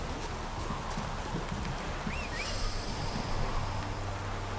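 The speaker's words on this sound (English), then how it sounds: "Come here, teleporting horse." Video-game horse hooves clop in a steady walking rhythm over a constant ambient background, moderately faint and without talk.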